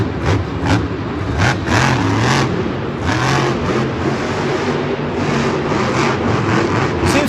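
The Grave Digger monster truck, driven by Kristen Anderson in a Monster Jam freestyle run in Houston, roars and revs loudly and steadily over a constant arena crowd din.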